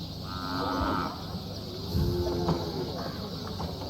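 Cattle in India moo twice, a long low call followed by a second deeper one, close and loud over steady background noise.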